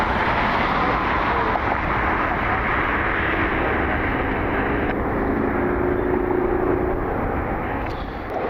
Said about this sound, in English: Pretty long takeoff roll for the Embraer.